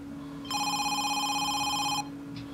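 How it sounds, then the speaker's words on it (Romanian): A telephone rings with one sustained electronic trill lasting about a second and a half, clear and close over a low steady hum, then stops. "Auzi la telefon."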